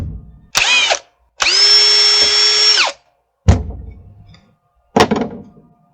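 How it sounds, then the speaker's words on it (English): A power drill match-drills holes through crashed tricopter drone frame parts, running in two bursts, one short and one longer, with a steady whine, followed by two sharp thunks of handling the pieces, all close and without speech. "And then we're just going to match drill."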